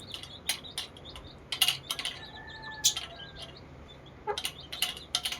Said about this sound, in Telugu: ఆ పిట్టల కోసం చూడండి క్యూట్ ఉంది.